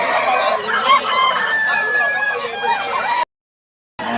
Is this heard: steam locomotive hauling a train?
no